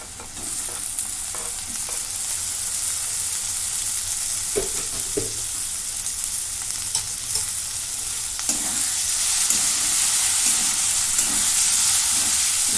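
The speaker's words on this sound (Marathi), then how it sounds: "टॅमॅटो पण चांगला मऊ होईपर्यंत मी भाजून घेते" Tomatoes roast in a hot pan until soft for a dried green pea curry, a continuous loud sizzle and hiss with occasional stirring scrapes.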